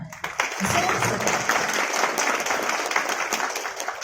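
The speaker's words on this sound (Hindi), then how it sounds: "उनके लिए जोर से ताली" An audience claps loudly at an event honoring competition and quiz organizers, sustained applause from many people that begins after a brief pause and continues evenly throughout.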